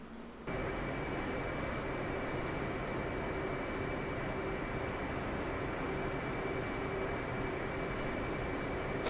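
An F/A-18C jet taxiing on an airfield in a flight simulator game, a steady loud engine roar with a constant whine holding unchanged throughout, no voices.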